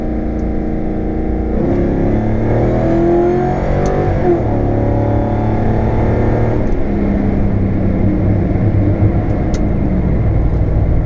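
A car with a 4R70 automatic transmission and B&M Quicksilver ratchet shifter pulls hard in first gear from about 35, its engine note climbing and falling in steady rising sweeps, loud and close with no talking.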